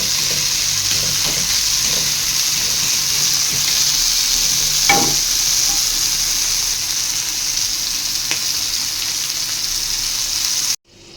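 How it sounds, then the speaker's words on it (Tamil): Fish frying in hot oil in a pan, with the pieces turned gently so the head, tail and body stay whole: a steady close sizzle with a few soft scraping turns, ending abruptly. "திருப்புங்க உடையாம. தலை தனியாக வால் தனியாக உடம்பு தனியாக வந்துடும். பதமாக திருப்பணும்"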